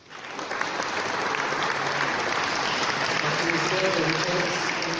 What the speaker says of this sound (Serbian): svakako zaslužuje aplauz